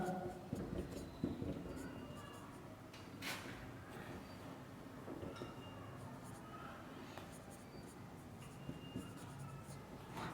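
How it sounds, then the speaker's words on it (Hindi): Chalk or pen writing out a line of a class 10 polynomial maths solution, with soft continuous scratching strokes and brief taps, close and fairly quiet, under a low room hum. "तो यहाँ से एक लाइन और लिख लें अच्छा दिखने के लिए"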